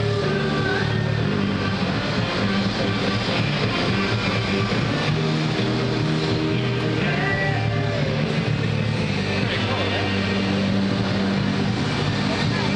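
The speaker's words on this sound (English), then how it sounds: "That airplane's starting to take off." An airliner starting its takeoff roll at Toronto Pearson airport, a steady broad engine roar filling the whole stretch at moderate distance, with wind and ambient noise and no clear voices.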